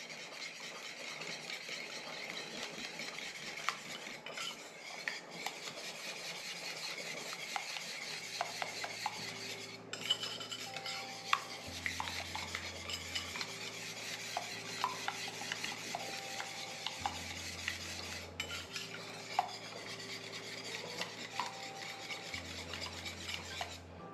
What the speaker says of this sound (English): I'm just going to mix everything all in